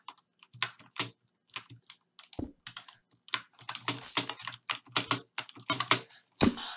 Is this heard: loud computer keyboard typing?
yes